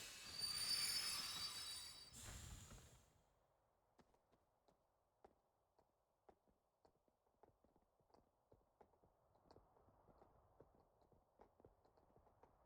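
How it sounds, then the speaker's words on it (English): Train arriving in the video game Kingdom Hearts II: a loud rumbling rush and squeal for the first three seconds, then fading into a quiet stream of clattering, clicking taps as the train settles. "The train will be arriving shortly."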